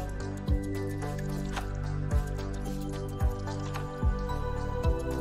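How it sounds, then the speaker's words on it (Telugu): Water from split milk for homemade Diwali sweets drains through a cloth strainer, giving a steady trickle with soft, irregular drips and squishy splashes every second or so, close and fairly quiet. "ఇప్పుడు క్లాత్తో నీళ్ళని వడకట్టండి."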